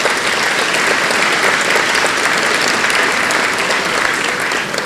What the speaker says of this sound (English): So a big round of applause for our sponsors.